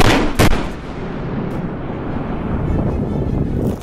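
A loud blast from failing electrical equipment: a sharp burst near the start, followed by a sustained roaring, rumbling noise with wind buffeting the microphone.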